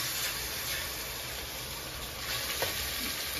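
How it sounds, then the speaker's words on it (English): Shrimp frying in hot olive oil on a stove, a steady broadband sizzle and hiss that is close and continuous, with a faint clink partway through. "I'm just gonna let the shrimp fry for about"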